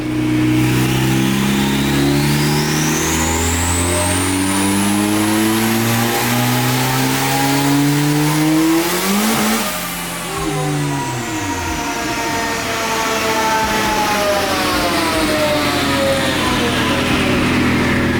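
A turbocharged Honda Civic runs a tuning pull. The engine climbs steadily in a long, loud rev and then drops off sharply near the middle before settling again, with a high whine rising above it.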